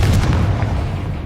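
A Confringo blasting spell exploding in Hogwarts Legacy, a single deep, booming burst that rumbles and fades over about a second.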